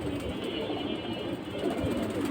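Domestic pigeons of fancy breeds cooing close by, a low, throaty, continuous burble with soft rhythmic pulses and no talk over it.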